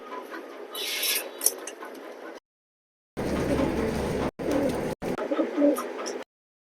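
Racing pigeons coo and flutter inside a loft in short, close bursts, broken by brief silent gaps, with soft rustling between calls.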